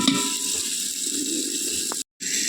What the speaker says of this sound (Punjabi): ਲੋ ਜੀ ਤੜਕਾ ਲੱਗ ਗਿਆ